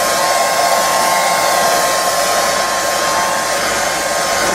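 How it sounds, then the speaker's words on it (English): A hair dryer blows steadily and loudly over a watercolour painting, a constant whooshing hum with a faint high whine, running without pause and with no voices. "I'm going to switch the hairdryer on and just start to gently dry this."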